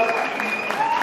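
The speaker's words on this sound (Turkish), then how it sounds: "Alkışlarımızla saygılar oğlumuzu." Wedding guests applaud in a steady, dense burst of clapping that fills the room, with a voice carrying over it.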